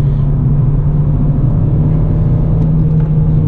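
A manual car engine is revved hard as the gas is floored, a loud, steady close-up drone with a strong low hum and rumble held for a few seconds, with no talking.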